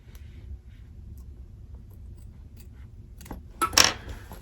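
Scissors snipping away cutaway embroidery stabilizer on an in-the-hoop zipper bag, faint quiet rustling followed by a brief louder crisp cut and clatter near the end, close by.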